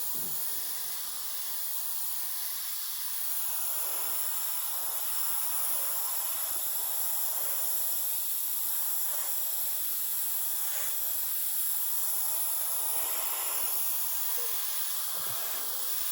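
An airbrush sprays a thin coat of paint onto a 1/32 Italeri F-104 scale model, a steady close hiss of air running continuously with slight fluctuations and a brief pause near the start.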